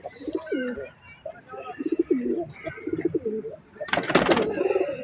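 Pigeons coo in a loft, giving repeated soft, throaty calls close by, with a brief burst of wing flapping partway through and a voice talking in the background.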